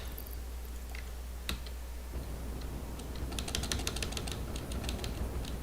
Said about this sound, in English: Mashing spacebar gets you up higher